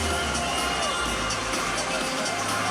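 A capacity crowd cheers at a boxing bout in a Dushanbe sports complex, a dense steady roar of many voices with shouting, loud and continuous throughout with no break.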